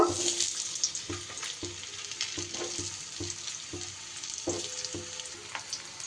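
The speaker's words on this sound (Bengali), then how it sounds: "আলুর মধ্যে একটু নুন দিয়ে দিলাম কিছু সময় কিন্তু আমি আলুটা ভেজে নেব" Potatoes salted and frying in oil in a wok crackle in a continuous sizzle, punctuated by regular scraping stirs every half second or so, close and moderately loud with no talk.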